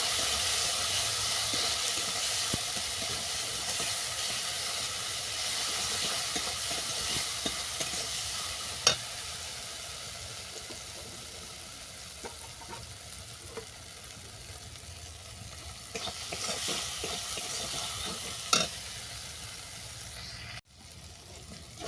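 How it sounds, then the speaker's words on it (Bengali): Chili powder frying in oil in a pan, a continuous close sizzle with intermittent stirring scrapes and a couple of sharp utensil knocks, no voices. "আর দিয়ে দিচ্ছি লঙ্কা গুঁড়ো এটা ভালো করে কষিয়ে নেব"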